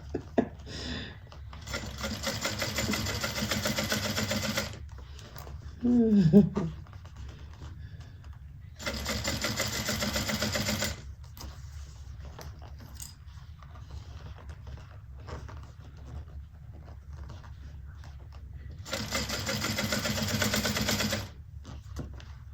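A sewing machine stitching the Nyla handbag runs in three sustained, even stretches of rapid needle chatter, with pauses between them and a brief clatter in the first gap.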